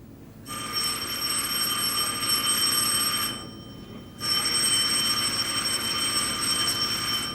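An old telephone bell rings loudly in a domestic Egyptian drama scene, a long continuous electric ring that stops briefly and then starts again, with no talking over it.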